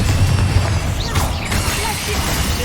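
Spell blasts from Confringo and Incendio in Hogwarts Legacy go off as a dense, loud roar of crackling fire and booming bursts, with a swooping whoosh in the middle, steady throughout.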